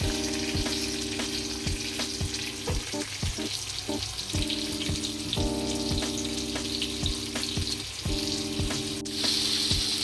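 Bombay duck (bombil) fish frying in hot oil, a loud, continuous sizzling hiss with scattered pops and a faint tonal hum underneath.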